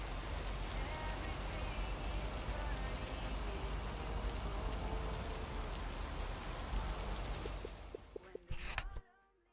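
Steady rain falls heavily by a lake, a dense continuous hiss that stays loud throughout before cutting off abruptly near the end after a few brief clicks.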